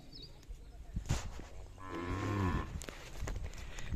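A Khillar cow lets out one long, low moo nearby, rising and falling, with rustling and faint background noise around it.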